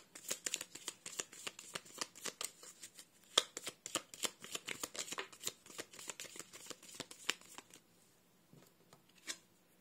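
Tarot cards shuffled by hand in rapid, crisp riffling bursts, close and fairly quiet, trailing off into a few isolated flicks near the end.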